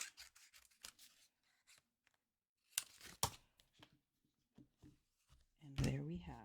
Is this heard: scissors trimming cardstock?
yes